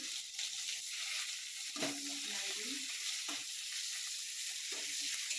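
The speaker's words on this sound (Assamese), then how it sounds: "পিঁয়াজখিনি অকণমান সময় ভাজিম।" Chopped onions and whole cumin seeds frying in hot oil in a pan, a steady close sizzle running throughout with a few brief stirring clatters.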